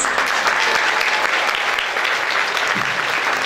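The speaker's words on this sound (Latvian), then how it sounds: "Tad, mīļie skatītāji, ar aplausiem Jānis!" Dense, sustained applause from a concert audience at the Klusie ūdeņi 2015 event in Aizkraukle, Latvia, a steady wash of clapping at full loudness for the whole stretch.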